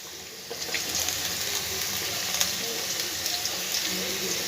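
Pointed gourd, beans, pumpkin and cucumber tipped into a hot pan of oil after the potatoes, giving a steady broadband sizzle and hiss that holds evenly throughout, with faint clatters on top.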